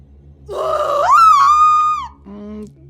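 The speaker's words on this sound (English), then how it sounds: "to perform her signature scream at a local convention for monster movie fans" A woman's strained, wavering scream in the video game What Remains of Edith Finch, a groaning rise into a long held shriek that breaks off, followed by a short lower croak, loud and close over a faint low hum.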